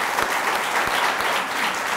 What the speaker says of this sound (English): Thank you, you can clap.